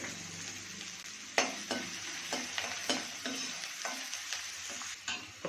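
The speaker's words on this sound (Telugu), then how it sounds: "గార్లిక్ పీస్ వేసుకోవాలి ఇవి కొంచెం పింక్ కలర్ వచ్చినంత వరకు వేగాలి" Garlic and onion pieces frying in a pan for Apollo chicken, a gentle sizzle broken by sharp spatula scrapes and taps against the pan at irregular intervals, nearby and without talk.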